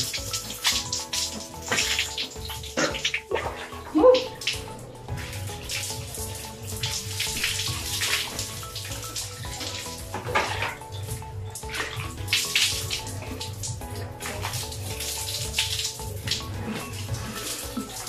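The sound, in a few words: water poured over body with a dipper while bathing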